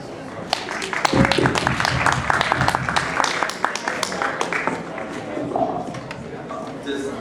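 Audience applause for a spoken-word performer at a university event, a dense steady wash of clapping lasting several seconds and filling the hall at close range.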